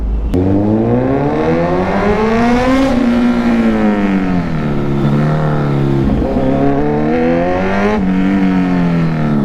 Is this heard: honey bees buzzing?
no